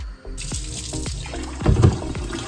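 Water runs from a kitchen tap into a pot being filled for pasta, a close, continuous gushing stream with sloshing swells as the level rises.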